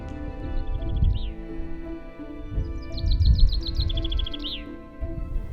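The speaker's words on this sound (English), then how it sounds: "listening to the chatter of the birds while we walked uphill" Morning birds chatter and chirp along a hiking trail in Corsica, with quick repeated high trills and tweets over a low rumbling background of footsteps or wind.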